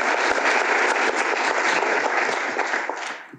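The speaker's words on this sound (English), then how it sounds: "Can I have a round of applause?" An audience at an inaugural oration on Indigenous genomics applauds after a speech, sustained dense clapping that fades away at the end.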